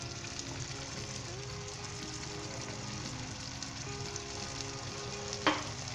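Peas and moongray sizzle in a hot pan with potatoes, a steady close frying crackle with soft scraping as the mixture is stirred and one sharp clink near the end.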